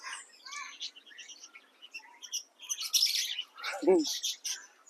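Parrots and lovebirds call in the wild in Albay with scattered chirps, tweets and squawks, some close and some farther off, ending in a louder harsh squawk near the end.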